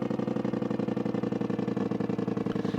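A giant 10-litre single-cylinder truck engine in a video game pops along in a steady, rapid rhythm of exhaust pulses, a low burbling overrun through a long unmuffled pipe that stays even and fairly loud throughout.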